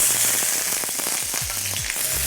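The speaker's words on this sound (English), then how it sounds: "So I'm going to start frying my onions first." Onions fry in hot cooking oil in a pan, a loud continuous sizzle close up, with scraping stirs under it.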